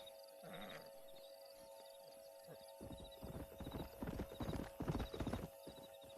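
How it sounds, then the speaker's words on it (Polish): Horse hooves in the game Red Dead Redemption clip-clop in a quickening rhythmic sequence, faint at first and then louder and closer, with a brief whinny early on. "We got some fine horses."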